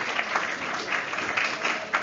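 A short round of clapping comes from a security meetup audience in London thanking the event's hosts. The applause is brief and fairly soft, with individual claps audible in a steady patter.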